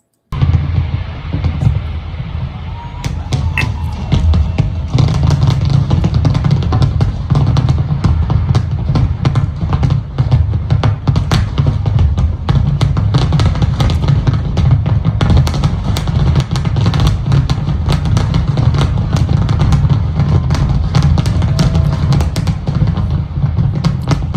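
A Fourth of July fireworks display in Washington DC crackles loudly and continuously, with dense rapid pops and bursts layered over a heavy low rumble for the whole stretch.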